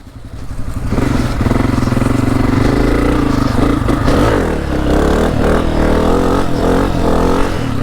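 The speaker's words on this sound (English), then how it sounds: "the 2024 Honda CRF250F is a fantastic bike." A 2024 Honda CRF250F trail motorcycle engine runs loud and close, rising quickly then holding a steady, revving drone with mechanical clatter as the bike is ridden; no talking.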